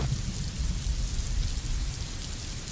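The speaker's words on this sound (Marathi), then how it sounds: "कोल्हापूरमध्ये पावसाची संततधार ही सुरूच आहे" Heavy, continuous monsoon rain in Kolhapur, a dense, even roar with a low rumble underneath, steady throughout with no voices.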